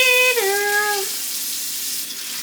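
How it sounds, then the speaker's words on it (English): Hot water pours into a Haunted Mansion color-changing mug, a loud broadband splash with a brief rising tonal ring as it fills, then settling into a steady hiss. "when you fill it with hot water, it starts to fill in the drawings"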